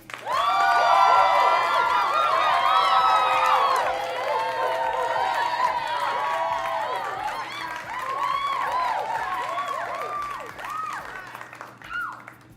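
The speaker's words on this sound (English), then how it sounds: "Round of applause." A crowd gives a round of applause and cheers at a live Steelers fan show, loud, dense clapping with whoops and shouts that swell early, then gradually fade toward the end.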